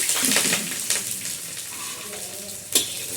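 Chopped garlic and onion sizzle in hot oil in a kadai on a desi clay stove, a tadka for cauliflower sabzi, with a bright hiss that fades somewhat and a sharp clink near the end.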